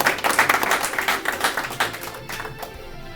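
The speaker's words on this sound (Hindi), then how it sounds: "एक बार जोरदार तालियां सभी कवियों के सम्मान में" Applause for the poets at a Republic Day poetry gathering: a loud burst of crowd clapping that thins after a couple of seconds into scattered, fading claps.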